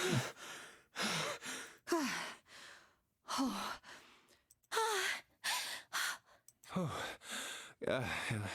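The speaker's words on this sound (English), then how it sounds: "Don't think it's necessary to hear everybody gasping, but we get it." Characters in the video game 999: Nine Hours, Nine Persons, Nine Doors gasp and sigh in a rapid series of short, breathy bursts, about a dozen voiced gasps one after another, close and fairly loud, with brief pauses between them.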